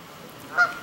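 A single short goose honk sounds once, moderately distant, over faint outdoor background noise.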